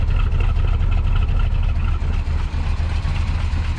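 A 1985 GMC square body pickup with a 454 V8, true dual exhaust and a vacuum leak idles roughly while missing on a cylinder, giving a loud, close, continuous low rumble with an uneven pulse.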